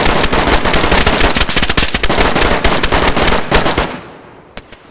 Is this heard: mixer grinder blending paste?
no